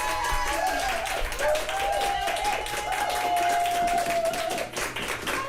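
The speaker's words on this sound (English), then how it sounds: "The last 2 times I've come in here, I get applause" Applause and clapping for a guest arriving in a radio studio on a breakfast show, a steady patter of hands that runs the whole clip under a sustained musical tone, close and fairly loud.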